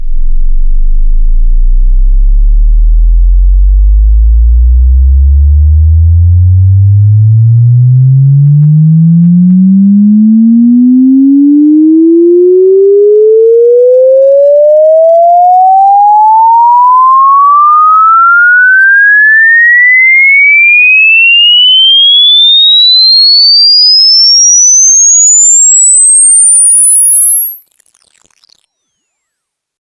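A single pure sine tone sweeping smoothly upward from a deep 20 Hz hum to a piercing 20 kHz whistle over about half a minute, then stopping.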